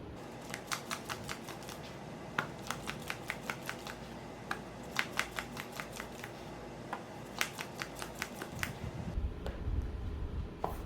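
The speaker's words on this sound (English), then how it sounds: "The dealer will continue to deal out the hands for those positions until everybody has received a packet of cards." A dealer deals out hands of playing cards at a Pai Gow Poker table, producing a steady series of crisp card snaps and slaps in irregular quick rhythm, close and fairly quiet, with no talking.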